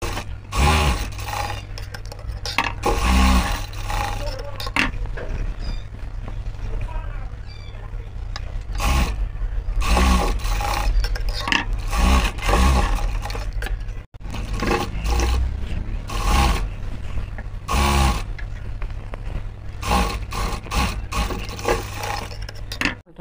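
A sewing machine stitches the shoulder seam of a churidar-cut nighty, with a steady low motor hum and rhythmic bursts of needle clatter running throughout at close range.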